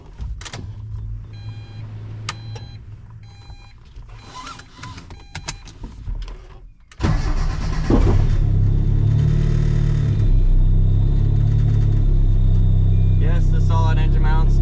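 Built turbocharged 1.6 Miata on solid engine mounts: quiet cabin sounds and scattered clicks at first, then the engine fires up into a loud, steady drone with rumbling vibration; a person talks briefly.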